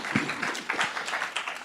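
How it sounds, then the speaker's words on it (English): Brief applause from an audience for a presentation group at a feedback presentation event, a short burst of scattered, distinct hand claps without speech. "Can we give them a round of applause?"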